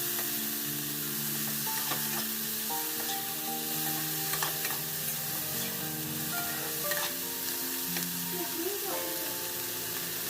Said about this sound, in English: Then add half tablespoon of salt, 1/4 cup boiled peas, 1 tomato finely chopped, and then mix them well.